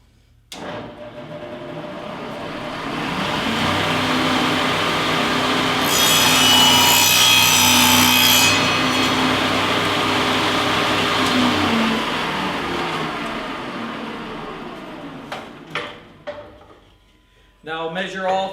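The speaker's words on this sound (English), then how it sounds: "I'm going to position and cut the first 18-inch board." A hand saw cuts an 18-inch wooden board for a large covered platform bird feeder, one long loud continuous rasping cut that builds and fades, followed by a few knocks and brief talk.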